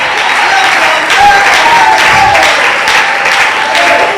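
A church congregation cheers and claps loudly for the Lord, a steady dense wash of applause and voices with a few shouts rising above it.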